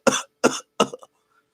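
A person coughs three times in quick succession, sharp and close, each burst short, with a brief throat rasp after the last one, then silence.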